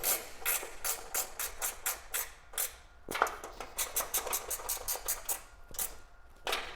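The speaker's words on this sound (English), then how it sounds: "So you'll just reach down through these cutouts here onto the end of the hex bolt. Tighten these down." A ratcheting wrench tightens hex bolts on a Sprinter van roof rack, giving a steady run of quick, close metallic clicks in repeated bursts with brief pauses and no talking.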